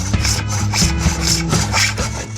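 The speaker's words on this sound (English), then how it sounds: "I need to turn the inside of my bowl." A hand tool cuts the inside of a wooden bowl as it turns, giving a steady run of rhythmic, close rasping scrapes with no talking.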